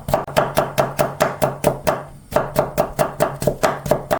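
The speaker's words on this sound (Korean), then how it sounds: "오이 반 갈라서" A knife chops a cucumber on a cutting board in quick, regular strokes, about four sharp knocks per second. The sound is close and loud, with one short gap before the rhythm resumes.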